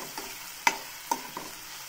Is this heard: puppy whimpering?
no